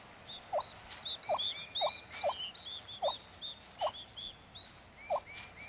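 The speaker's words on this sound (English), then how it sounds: "A female turkey urges her chicks from the nest with a special call." A wild female turkey at the nest giving repeated short clucking calls to her chicks in a spring forest in Shenandoah, about eight evenly spaced calls over faint high peeping from the chicks, fairly close, with no talking.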